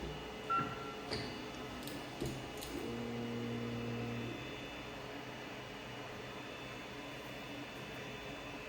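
A restarted Creality CR-10 S Pro 3D printer runs bed-leveling calibration: steady mechanical whirring with a low motor hum, a few faint beeps and clicks early on, then a sustained droning tone for a couple of seconds.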